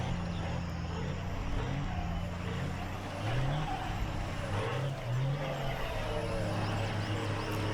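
Toyota Troop Carrier engine in the Mudrunner off-road game revving steadily and loud, a continuous droning hum with rising and falling pitch sweeps as it strains, no voices over it.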